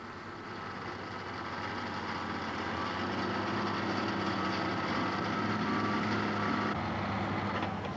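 A heavy grader's freshly installed exchange engine runs steadily and close, a continuous rough drone holding an even level for the whole stretch, with no voices over it.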